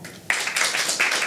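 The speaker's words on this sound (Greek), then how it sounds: "Ένα χειροκρότημα" Audience applause breaks out at a stand-up comedy show, a sudden burst of clapping that starts after a quiet moment and continues steadily at moderate loudness.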